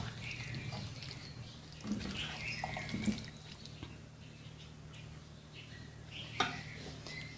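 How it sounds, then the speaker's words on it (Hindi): Chickpea cooking water trickles into a pot of chicken cholay, soft liquid splashing and dripping at a moderate distance with a few sharper splats, no talk. "मैं इसमें वो पानी शामिल कर रही हूँ जो चने उबाले थे"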